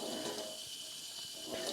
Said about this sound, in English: So now I'm just going to wash this through with cold tap water.